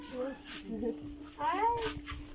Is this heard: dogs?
yes